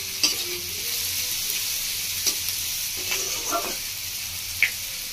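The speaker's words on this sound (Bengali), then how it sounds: "হালকা করে সবজিটা ভেজে নিয়েছি" Vegetables lightly fried in a pan for paneer pasta sizzle steadily up close, broken by a few sharp clicks and scrapes of stirring.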